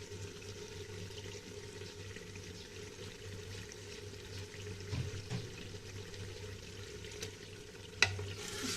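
Mutton pieces sizzle faintly in a pot while being stirred, a low steady hiss with a few soft scrapes and one sharp clink near the end.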